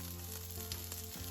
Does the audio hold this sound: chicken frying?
yes